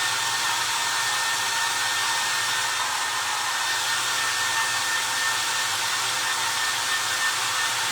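A hair dryer blows on foam clay carrots, a loud, constant whooshing roar with a faint motor whine that holds steady without a break.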